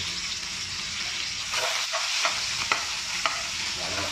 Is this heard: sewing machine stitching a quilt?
no